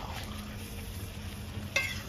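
Rajasthani-style lal chicken sautés in a pan with a steady, soft sizzle and low frying hiss, and a brief stir or scrape near the end.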